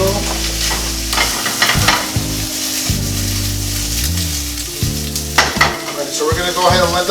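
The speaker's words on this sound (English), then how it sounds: "throw that into our little skillet and get that browned up real quick" A small skillet of Vietnamese Cajun boiling-crab ingredients fries and browns with a loud, steady sizzle, punctuated throughout by repeated scraping stirs and clanks of a utensil against the pan, close by and without talk.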